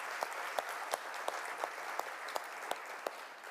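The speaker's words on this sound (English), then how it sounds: "Can we give her a round of applause?" Audience applause at the opening plenary of a UN Environment Assembly session, a steady wash of clapping from a sizable crowd with a few sharper claps standing out at regular intervals, fairly quiet and even throughout.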